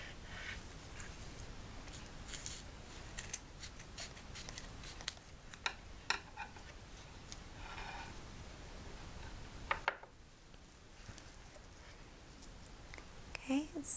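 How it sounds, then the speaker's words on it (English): Scissors snip off excess ribbon while making clay hanging decorations, a few quiet, crisp cuts and small rustles scattered through a hushed, close-up room tone. "I'm going to cut off the excess ribbon"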